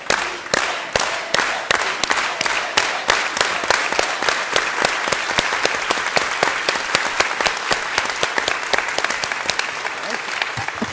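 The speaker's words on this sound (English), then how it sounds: "let's all do it with an organized hand clap" An audience at a talk with Dolores Huerta claps in unison for about eleven seconds, a loud, steady beat of organized hand claps with crowd voices underneath.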